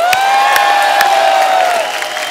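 Studio audience on The Kapil Sharma Show cheering and applauding as India's Tokyo 2020 hockey teams are welcomed, a loud, sustained roar of crowd noise and clapping with a steady high tone ringing through.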